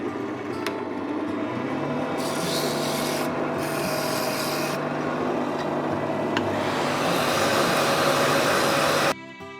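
A ballpoint pen blank is rough-shaped on a lathe with a steady scraping, rasping rub that continues loud and unbroken, with brief louder passages, before cutting off abruptly near the end.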